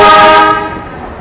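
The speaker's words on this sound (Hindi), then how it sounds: "ये आ रही है केरला एक्सप्रेस" Kerala Express pulling into a station, a loud horn-like tonal blare with steady harmonics that fades over about a second as the train approaches, no talking.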